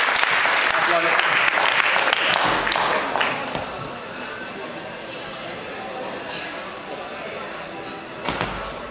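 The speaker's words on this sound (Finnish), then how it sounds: "Aplodit." Audience applause in a Finnish fitness event setting, a broad clatter of clapping loud for about three seconds, then thinning and fading into scattered claps with a brief burst near the end.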